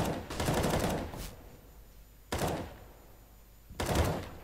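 Three separate bursts of video game gunfire during an esports match on the Mirage map, each a sharp rattling volley followed by a quieter stretch of background hum.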